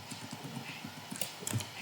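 In a video game, the hooves of a paint horse mare clip-clop in a quick rhythmic patter that ends in a short whinny. The sound is moderately close and comes with no talking.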